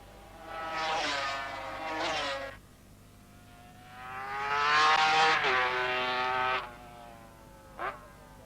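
Two-stroke 500cc Grand Prix racing motorcycles, including an MV and a new Suzuki, scream past in two loud waves with rising and falling engine pitch, then a brief distant burst at the end.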